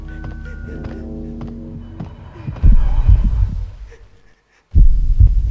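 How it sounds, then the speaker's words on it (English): Slow heartbeat effect in the Max Payne video game, deep thumping pulses under a droning hum and game tones, loud and close, with a short silent gap before the throbbing resumes. "I do not like that slow heartbeat thing."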